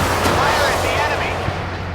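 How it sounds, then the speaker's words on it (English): Warship guns firing in the Force of Warships naval combat game, a dense, loud wash of rumbling gunfire with a faint low hum beneath it and no clearly separate shots, heard up close. "Fire at the enemy."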